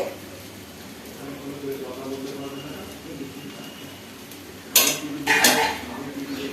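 Rice noodles are mixed in a pan, with soft stirring at first and then a burst of metal clanks and scrapes from utensils against the pan near the end, while a person talks throughout.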